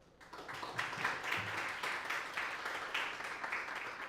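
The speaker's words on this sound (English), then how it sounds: "I just wanted to ask you all to recognize them with a round of applause" A round of applause from a conference audience at an academic event, steady broadband clapping that swells quickly and holds for about four seconds, with faint voices mixed in.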